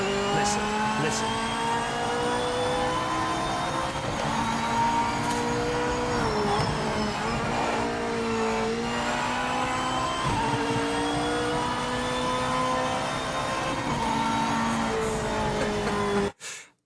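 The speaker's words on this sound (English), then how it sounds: "some audio, like engine sound, kind of a sort of a frequency you hear in every car" A race car engine in the Project Motor Racing sim drones loud and steady, its pitch rising and falling through gear changes for a long stretch, and it cuts off abruptly at the end.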